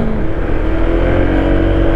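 Honda ADV 160 scooter engine running steadily and loud at close range on a rough road, a continuous hum holding through the whole stretch with a slight climb in pitch under load.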